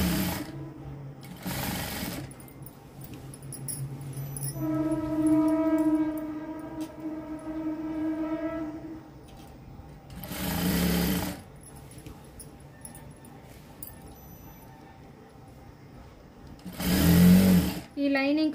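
A sewing machine stitches the lining of a knee-length frock. It runs for a few seconds with a steady whirring hum, close and clear, while a person talks before and after the stitching.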